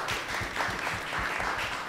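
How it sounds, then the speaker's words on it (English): A panel-discussion audience applauds, a dense, even wash of many hands clapping that carries on throughout the short moment. "Can we give this panel a round of applause"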